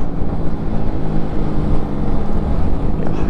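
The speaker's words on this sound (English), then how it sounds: "Just the wind going through your helmet, the sound of the engine" A Yamaha MT-125 motorcycle engine droning steadily under heavy wind rush buffeting a rider's helmet, loud and close with a constant low rumble.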